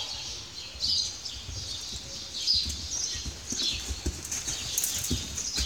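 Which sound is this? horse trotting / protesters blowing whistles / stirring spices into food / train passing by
horse trotting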